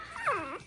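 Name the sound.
American Bully puppies whimpering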